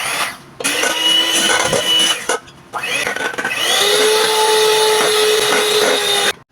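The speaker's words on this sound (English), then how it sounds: "I cracked 2 eggs into a bowl and whisked using my electric hand mixer." An electric hand mixer whisking two eggs in a bowl, a loud close whirring drone that starts and stops in short bursts before running steadily to the end.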